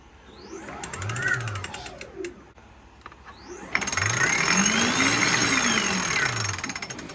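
An eWincher electric winch fitted to a sailboat's manual winch runs in two bursts, its motor whine sweeping up and down in pitch; the second, longer run from mid-clip on is louder and steadier.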